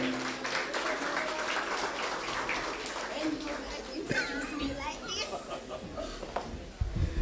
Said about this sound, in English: I want to put a clap on her and welcome her now up here